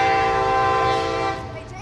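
A train on the rebuilt railroad bridge at Bay St. Louis sounds a loud, sustained horn blast that holds steady, then drops off and fades near the end, with faint rail rumble beneath.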